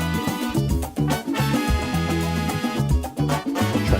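Upbeat Afro funk track with punchy bass, tight percussion and bright layered instruments playing continuously, no voices.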